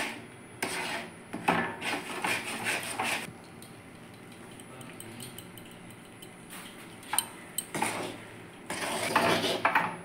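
A spoon scrapes and stirs thick rice flour dough in a pot of boiling salted water while making chushi pithe, in close bursts of rasping strokes separated by quieter pauses.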